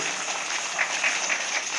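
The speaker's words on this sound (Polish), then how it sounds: "Oklaski na początek prosimy." Audience applause at a Kashubian fair event in Rumia, dense steady clapping from a crowd heard on its own for a couple of seconds.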